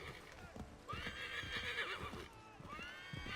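Horse in the Assassin's Creed 3 video game whinnies loudly in a drawn-out, wavering call, with hoofbeats clopping steadily underneath.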